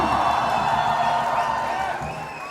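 Crowd at a college fest cheering and whooping continuously, a dense, sustained roar of voices that tapers slightly toward the end.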